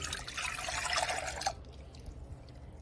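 Milk being poured into a pan over medium heat for a pie filling, a close liquid stream and splash that runs for about a second and a half and then stops, leaving quiet room tone.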